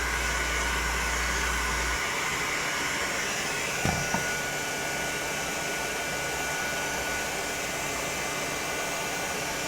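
Steady, loud whooshing of a heat gun warming foam armor pieces so they can be curled, a constant airflow roar with a brief click partway through.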